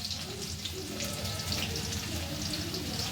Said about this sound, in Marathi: लसूण, जिरं, मोहरी छान तळलंय.